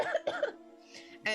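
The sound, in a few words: voice imitating an old lady coughing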